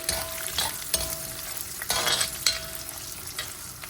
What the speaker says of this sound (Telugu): కొన్ని వెల్లుల్లిపాయలు, ఎండి మిరపకాయలు ఒకసారి కలుపుదాం.